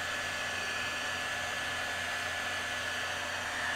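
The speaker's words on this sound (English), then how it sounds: "So just keep your heat gun moving." A heat gun blows on a tall skinny sublimation tumbler, producing a steady, even whooshing hum with a faint electric whine, constant throughout and heard close with no speech.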